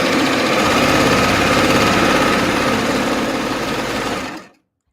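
A serger runs a 3-thread overlock stitch continuously, its steady rapid mechanical whir loud and close, with the cutting blade engaged, then stopping abruptly near the end.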